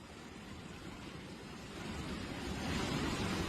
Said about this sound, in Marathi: नद्यांना पूर आलाय